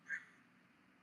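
A single short honk from a goose, fairly faint and a little distant, followed by quiet background hiss.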